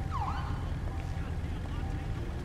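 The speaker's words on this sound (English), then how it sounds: "Alright, I'm gonna turn my siren." A police motorcycle siren gives a brief rising-and-falling wail over a low rumbling engine idle, fairly close and heard alone without talk.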